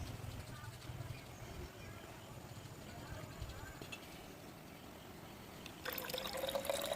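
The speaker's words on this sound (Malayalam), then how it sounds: "ഇത് ലെവലിലെത്തിയപ്പോൾ നോക്കൂ വെള്ളം വരുന്നത്" Water trickles out of a bottle through a pipe, a faint, steady dribble that turns into a brighter, louder splash near the end.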